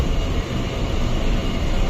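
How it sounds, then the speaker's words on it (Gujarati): An air-conditioned suburban train runs near Goregaon in Mumbai, a loud, continuous rumble of the moving carriage heard close up, with no talk. "એસી ટ્રેન છે."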